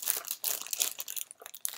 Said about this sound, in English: I put a plastic bag around it to blur it